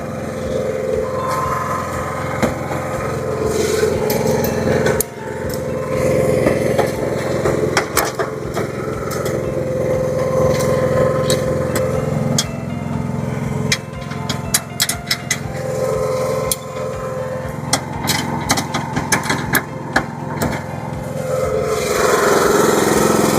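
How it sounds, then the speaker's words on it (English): Steady motor whine of a 2026 Equipter Tow A Lift's hitch lowering, running continuously at close range with faint clicks and knocks over the drone, no talking. "now I run the hitch all the way down till it stops moving"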